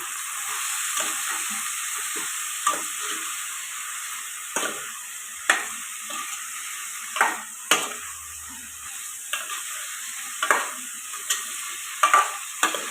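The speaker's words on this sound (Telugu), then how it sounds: "బాగా కలుపుకొని మూత పెట్టుకొని ఫ్రై చేసుకోండి" A drumstick and cauliflower curry fries in oil while being stirred, a soft steady sizzle broken by repeated scraping knocks of a spoon against the pan at irregular intervals, no talking.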